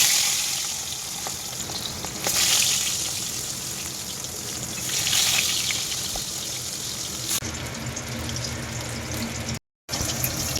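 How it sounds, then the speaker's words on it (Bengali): Hilsa fish tails, rubbed with salt and turmeric, frying in hot oil in a home kitchen, giving a steady close sizzle with surging bursts and a brief dropout near the end. "লেজগুলো ভাজা হয়ে গেছে,"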